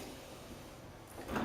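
The hinged door of a Carimali Gusto automatic coffee machine is lowered during cleaning of the brewing unit, giving a short mechanical clunk near the end of a quiet moment.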